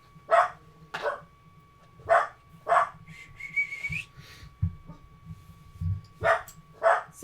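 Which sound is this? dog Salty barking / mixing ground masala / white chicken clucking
dog Salty barking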